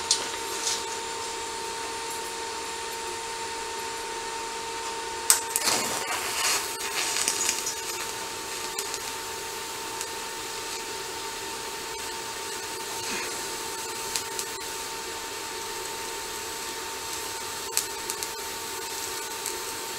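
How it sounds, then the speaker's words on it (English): Stick arc welding with a 1/16 inch diameter rod joining metal pieces of different thickness: a steady, even crackling hiss sustained throughout with a few faint pops, and no voices. "So I'm going to weld out this side first."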